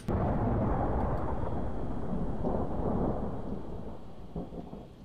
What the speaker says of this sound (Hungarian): Nagyon-nagyon szépeket dörög itt már az ég.